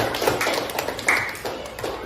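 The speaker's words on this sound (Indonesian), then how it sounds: "tepuk tangan untuk kalian semua" A small classroom of student groups claps for each other, a soft, uneven patter of hands in a roomy space with faint voices underneath.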